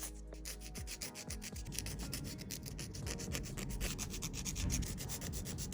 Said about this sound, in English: take my hand file and smooth out the nails